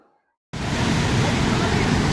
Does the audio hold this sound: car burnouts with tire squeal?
no